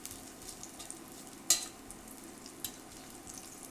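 A pork loin roast, cut in half, sizzling and being stirred in a hot pan on an induction burner: a soft steady frying crackle with a couple of sharp clatters, close but quiet, with no speech.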